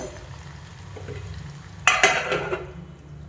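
An egg frying in a pan gives a low, steady sizzle, then a short burst of louder scraping and clinking as it is stirred or turned, fading back to a quiet sizzle.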